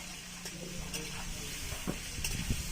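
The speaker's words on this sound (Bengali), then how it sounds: "তো তার জন্য আমি হলুদ আর লবণ দিয়ে আলুটা ভাজি" Potatoes fry with turmeric and salt in a pan, a faint steady sizzle with occasional soft clinks and scrapes of stirring against the pan.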